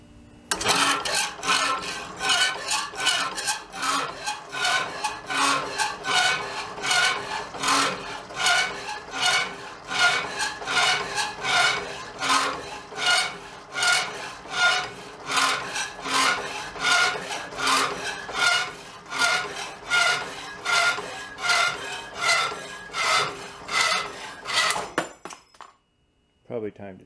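A power saw cuts through flat metal stock for a roof rack accessory holder on a 1967 Volkswagen Beetle, a loud, steady, rhythmic rasping with regular strokes that runs for about 25 seconds and then stops abruptly, with no talk over it.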